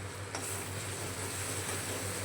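Kashmiri chili powder and spices sizzling in a pan as they are stirred and fried, a steady close hiss with a continuous low hum underneath and no talking.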